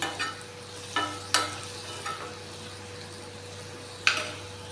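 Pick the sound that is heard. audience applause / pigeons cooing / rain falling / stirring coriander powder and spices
stirring coriander powder and spices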